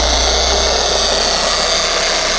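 A car polisher runs at its first, lowest speed while spreading polish over bodywork, giving a steady, continuous motor whir with no breaks for the whole stretch and no voices.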